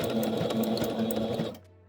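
A sewing machine stitches a button onto a fast fashion dress, running in a steady fast whir of rapid stitches up close, then stopping abruptly near the end, leaving only faint room noise.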